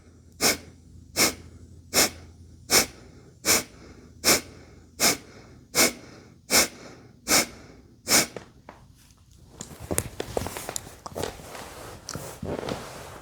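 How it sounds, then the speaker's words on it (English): Breath of fire in a Kundalini yoga kriya: a run of about a dozen forceful, evenly spaced nasal exhales, close and distinct, then quicker, rougher puffs of breath. "Go at your own pace, slowing the breath of fire slightly if need be."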